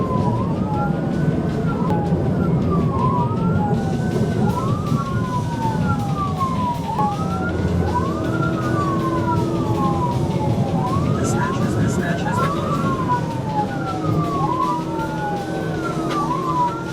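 A police car siren wails in repeated rising-and-falling sweeps during a high-speed pursuit through traffic, loud and continuous over road and engine noise.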